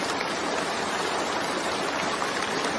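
Steady, dense rain in an even wash with no breaks, close and constant for the whole stretch, no voices.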